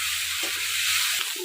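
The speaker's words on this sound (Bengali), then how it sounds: "এই যে মশলা কষানো হয়ে গেছে" Ginger and green chili spice paste sizzles and fries in a pan during Bengali village cooking, a steady close hiss with brief soft stirring scrapes and no talking.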